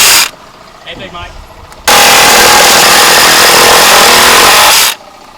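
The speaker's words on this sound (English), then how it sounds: "Big Mike uses power tools" After a quiet start with faint sounds, a power tool suddenly blasts on, loud and close, running steadily for about three seconds before cutting off.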